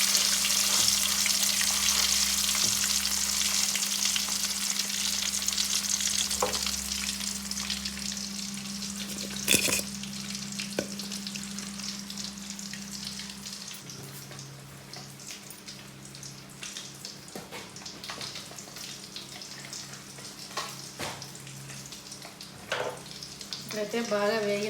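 Fish frying in hot oil in a home kitchen, a steady close sizzle and crackle running throughout with a few louder spits and stirring scrapes, no talking.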